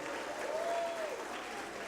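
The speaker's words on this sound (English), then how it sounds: "let's give Nadia a round of applause" Guests applaud at a benefit gala dinner, a steady, moderately distant round of clapping from a seated crowd filling the room, with a faint tone passing underneath.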